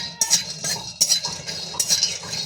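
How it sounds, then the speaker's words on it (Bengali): Raw peanuts dry-roasting in an open pan, stirred with a spoon: soft rattling scrapes and light clinks come in repeated strokes, close and fairly quiet, with no talking. "আমি শুকনো খোলা ভেজে নিচ্ছি"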